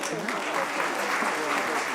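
An audience applauds at a talk on the Supreme Court, a dense, even patter of many hands lasting the whole stretch, with some voices mixed in underneath.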